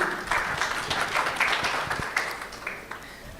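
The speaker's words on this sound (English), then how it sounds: "At least you're still clapping." Audience applause at a convention session fills the room with a dense, steady clatter of many hands clapping, holding fairly loud before tapering slightly toward the end, with no speech over it.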